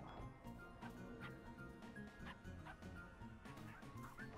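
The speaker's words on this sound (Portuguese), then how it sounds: "O cão imaginário é questionado e deixa de existir." Imaginary dog barking in the RPG video game Finding Paradise, repeated yips and bow-wows over steady game music, with no talking.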